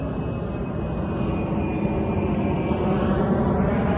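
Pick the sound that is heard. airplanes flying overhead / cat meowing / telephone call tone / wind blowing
airplanes flying overhead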